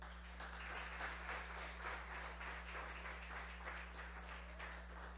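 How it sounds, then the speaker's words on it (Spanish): A church congregation at a Sunday service applauds, quiet and distant-sounding clapping sustained at a steady level over a constant low electrical hum. "Denle un aplauso al Señor."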